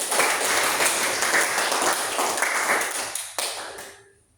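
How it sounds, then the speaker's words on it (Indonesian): A classroom of students claps for a classmate who answered, a brief burst of dense applause that fades out over a few seconds. "tepuk tangan untuk teman kita yang menjawab tadi"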